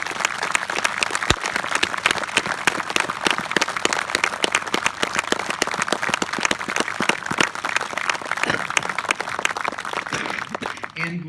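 An audience at an outdoor Memorial Day service honoring veterans gives steady, sustained applause, a dense wash of many hands clapping that lasts throughout.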